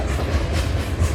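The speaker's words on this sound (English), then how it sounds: "The 382 starts off in Toledo, Ohio, and it's heading towards the McMillan Yard in Toronto, Ontario" CN freight train M382 rolls past trackside, a loud continuous low rumble of railcars with faint rhythmic wheel clatter and no voices.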